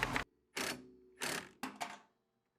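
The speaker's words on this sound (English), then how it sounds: "I got my impact wrench." An impact wrench works on the front strut bolts of a Jeep Liberty, firing four loud, close, rattling bursts with short pauses between them. The last two bursts come in quick succession.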